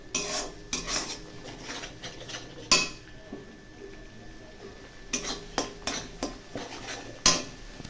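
A metal spoon scrapes and clanks against a pan while a spiced dish with chilli powder is stirred and sautéed, making sharp intermittent knocks over a faint background hiss, with no talking.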